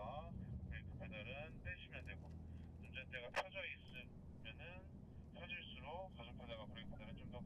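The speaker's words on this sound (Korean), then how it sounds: "보시면 엔진 소리부터 지금 일단 다르죠" A BMW engine revs and accelerates on a driving-centre course as a steady low rumble beneath someone talking almost continuously in Korean.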